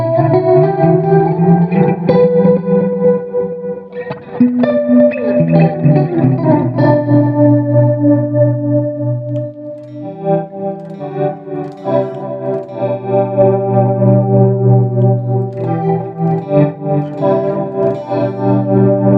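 An electric guitar runs through a tremolo pedal, laying down ambient, wavering sustained chords and odd swelling textures with a pulsing throb, loud and continuous throughout.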